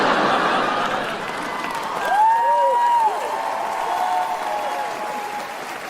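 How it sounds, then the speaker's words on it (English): Stand-up comedy crowd applauding and clapping after a joke, a steady dense wash of clapping that swells briefly midway, mixed with light laughter and some voice over it. "Thank you for clapping."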